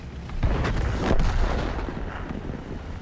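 A heavy tank cannon blast from an E100 in World of Tanks, one loud booming shot near the start followed by a rumbling tail and low battle noise, with no talking.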